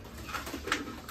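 Madrasi pigeons in a netted coop coo softly, a few low burbling calls rising briefly over a steady background hiss, with no talk.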